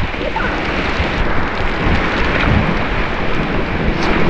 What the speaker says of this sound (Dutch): Hup, de volgende waterval.